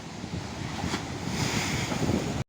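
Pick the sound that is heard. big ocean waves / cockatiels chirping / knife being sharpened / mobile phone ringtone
big ocean waves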